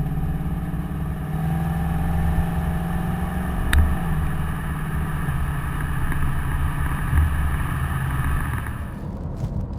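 2015-2017 Ford Mustang GT V8 with a Roush axle-back quad-tip exhaust, block-off plate removed, rumbling in a steady low idle-like drone that holds for several seconds and then trails off, with no talking.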